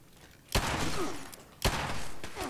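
Gunfire in the video game Fallout 76: two sharp loud shots about a second apart, each trailing into a sustained noisy rumble with some game sound beneath.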